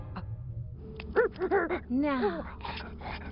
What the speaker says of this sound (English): What's up with the barking?